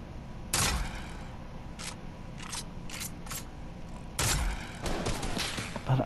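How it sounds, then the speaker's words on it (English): Sniper and assault rifle fire in Fortnite: two loud broadband cracks near the start and again around the two-thirds mark, with several shorter, fainter bursts between them over quiet game ambience. "He took one snipe shot and AR shot."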